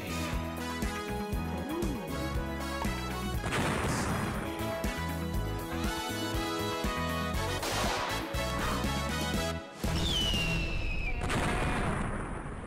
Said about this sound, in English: Clearly you didn't hear the explosions.